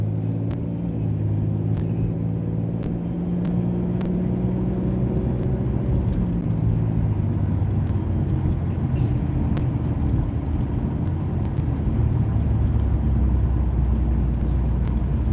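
A car gradually accelerates on the road, a steady low engine rumble that builds and deepens over the stretch, with a few faint clicks and ticks above it.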